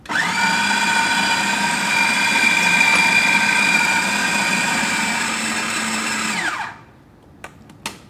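A kitchen food processor whirs continuously as it mixes quiche pastry into a ball, a steady high motor whine lasting several seconds before winding down, then a few faint clicks.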